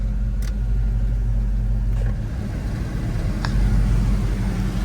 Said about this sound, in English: Heard the clutch engage.